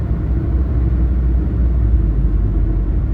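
A 1991 Nissan Figaro cruising smoothly on the road, heard from inside the cabin as a steady low engine and road rumble, continuous and fairly loud, with no talking.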